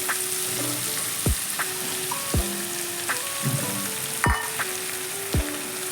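Garlic and sesame seeds sizzle steadily in a hot pan, a continuous close crackle broken by a few sharp clinks of a spoon scraping the metal.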